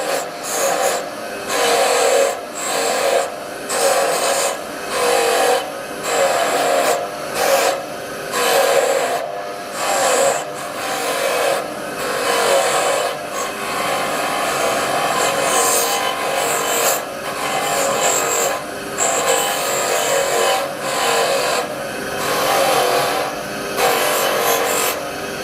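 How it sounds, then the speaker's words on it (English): A worn old bench grinder fitted with a wire wheel polishes metal, with loud rasping bursts in a steady rhythm of repeated passes, then merging into a longer continuous grinding scrape. "this is just a knackered old bench grinder with a wire wheel on it"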